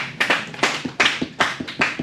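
Group of hands in a nursing class giving a golf clap, about eight soft claps in an uneven, unhurried rhythm, close and alone.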